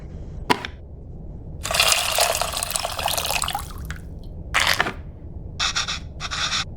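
Tamarind water is poured into a bowl in the video game Venba, heard as a sharp drip followed by several bursts of splashing liquid of varying length, separated by quiet gaps.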